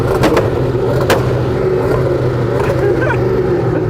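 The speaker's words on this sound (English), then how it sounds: "Go on, rev it up." Hennessey Venom F5 hypercar engine revving hard and loud up close, a dense roar with a few sharp pops and crackles, no talking.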